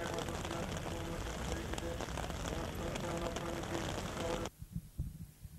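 Heavy rain pours down outdoors on the eve of a 25 March commemoration in Greece, a dense steady patter that cuts off abruptly after several seconds, leaving a few soft thuds.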